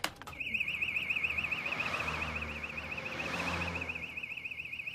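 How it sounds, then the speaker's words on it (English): Alarm bell ringing continuously, a steady rapidly warbling electronic tone sounding moderately loud over a faint background, without talk. "the alarm bell's going off"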